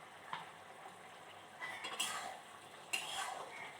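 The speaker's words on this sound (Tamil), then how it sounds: "நல்லா கலந்து விட்டுட்டு அடி பிடிக்காமல் பார்த்துக்கோங்க" Soft scraping and clinking of a spoon stirring thick coconut curry in a pot, with a gentle sizzle underneath and no talking.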